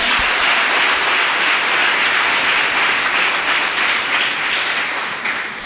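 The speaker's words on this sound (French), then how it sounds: "Applaudissez pour les deux." Wedding guests applaud the bride and groom at a marriage ceremony, a dense, loud and sustained wash of many hands clapping with no talk, tapering slightly at the end.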